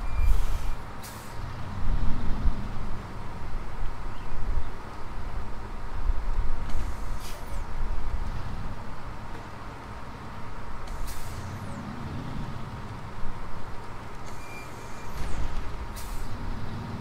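A heavy truck in SnowRunner rumbles with a low, steady engine while sharp air-brake hisses burst out several times, spaced a few seconds apart, with no talk over them.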